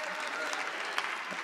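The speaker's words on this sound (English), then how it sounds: "Got three hand claps right there." A church congregation claps briefly during a sermon, a dense burst of hand claps with a few sharper individual claps standing out near the end.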